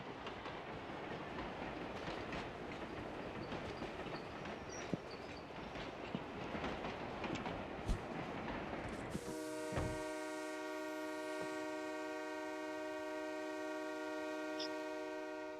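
A rumbling, rattling train in a video game approaches and passes, then gives way to a steady tonal hum with faint clicks, all fairly quiet and synthetic-sounding.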